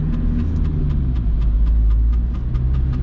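A VW Golf 3 1.9 TDI 90 HP diesel driving in the rain, steady low engine rumble with a rhythmic faint ticking overhead, continuous and close inside the cabin.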